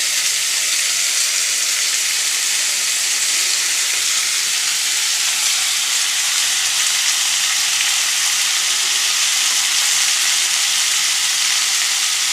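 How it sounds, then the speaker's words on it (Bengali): Potatoes fry in a pan until reddish, giving a long, unbroken sizzle at close range with a constant bright hiss and faint stirring, and no one talking. "লাল লাল করে ভেজে নিয়ে দেবো"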